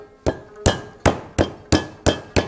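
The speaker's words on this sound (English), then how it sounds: "So this is basically a steak hammer that you're using?" A steak hammer pounds lamb chops flat in seven sharp, evenly spaced thuds, each strike close and loud with a short ringing decay.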